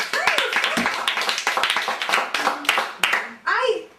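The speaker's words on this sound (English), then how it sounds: "Clap for that." Dense clapping from a crowd, a steady burst of applause that carries through the whole stretch, with a few voices calling out over it near the end.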